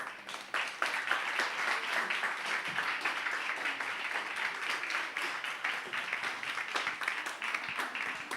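An audience at the InnovateHER 2024 event gives a sustained round of applause for hardworking participants, many hands clapping steadily at moderate distance, with faint voices mixed underneath.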